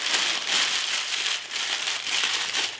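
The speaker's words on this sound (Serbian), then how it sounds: "1 papir za pečenje, prvo ću zgužvati" Baking paper crumpled by hand at close range, a dense crackling crinkle in repeated bursts over a few seconds, with no other sounds.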